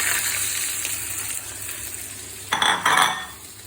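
Onions frying in a pan, a close continuous sizzle with a louder burst of hissing and stirring near the end, no talk.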